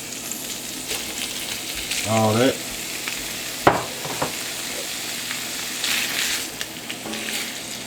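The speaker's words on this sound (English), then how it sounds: "it's gonna get the frying" Hot dogs and sausage sizzle steadily in a hot skillet, a constant crackling hiss with occasional clanks of a utensil and a brief spoken phrase.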